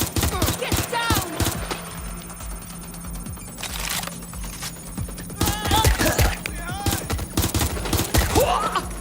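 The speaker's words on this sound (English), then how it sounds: "They're shooting at" Gunfire in the video game Watch Dogs Legion, loud rapid bursts of automatic shots in repeated volleys with sharp individual cracks, mixed with shouting and game effects between the bursts.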